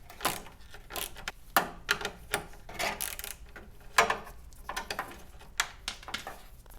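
Socket wrench working loose the windshield bolts on a Saab Sonett III, giving close, irregular bursts of metallic ratcheting clicks and clacks.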